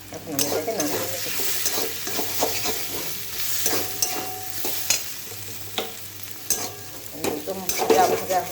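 Banana flower ghonto being stirred with ghee in a hot pan, a continuous sizzle broken by repeated scraping and clacking of a spatula against the pan, close and fairly loud.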